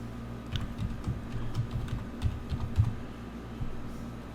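Password being typed on a computer keyboard, a run of light, irregular key clicks close by with no one talking.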